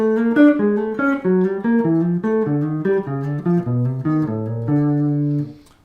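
Piano thirds with a half step below each note, now played descending: an even chain of paired notes stepping downward, ending on a held chord that fades, close and solo with no voices.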